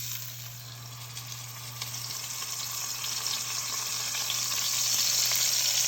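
A salted and peppered beef roast sears in hot oil for a pot roast, giving a steady, close, bright sizzle that grows slightly louder and fuller over the seconds, with no talking.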